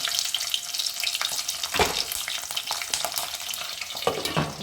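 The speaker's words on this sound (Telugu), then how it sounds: "ఇప్పుడైతే కొంచెం వెల్లిపాయలు అయితే వేసుకుంటున్నాను" Garlic frying in hot oil tempered with mustard and cumin for a tomato curry, a dense, crackling sizzle with irregular stirring knocks and spits, close and continuous.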